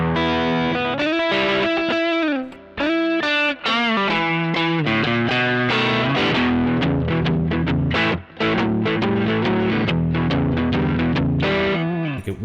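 Electric guitar played through a Trex Dual Drive pedal on its clean drive setting with the neck pickup: loud, close, lightly overdriven melodic phrases and chords in a steady run, with no talk.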